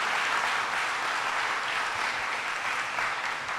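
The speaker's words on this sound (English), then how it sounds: "Let's give him a big round of applause for the great job he's doing." Crowd applause for Buffalo mayor Byron Brown at an Erie County announcement event, a steady, sustained wash of many hands clapping throughout, without speech.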